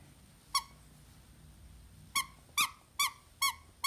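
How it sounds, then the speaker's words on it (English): A vintage white Dralon Zotty-faced teddy bear from the 1960s or 1970s gives a squeak from the squeaker in its chest, then four more in a quick, evenly spaced run. The squeaks sound bright and close, with little else around them. "he squeaks, and I love that. He has a squeaker in his chest"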